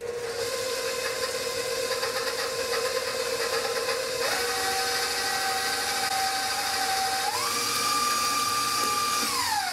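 An electric mixer whirs steadily through cheesecake batter with lemon zest, a bright motor whine that shifts pitch up and down as the speed changes, close and continuous.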